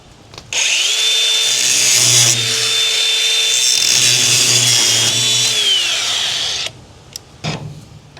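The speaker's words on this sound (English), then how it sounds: "I'm gonna take a grinder and cut me a notch in it" An angle grinder cuts a notch into a rounded-off bolt head, whining steadily and loud for about six seconds before spinning down, with short clanks afterward.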